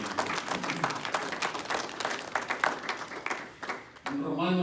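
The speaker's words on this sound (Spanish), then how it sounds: "Dale un aplauso al Señor" A congregation applauding in a church service in Hesperia, California, a dense burst of clapping for a few seconds that tapers off before a voice resumes speaking.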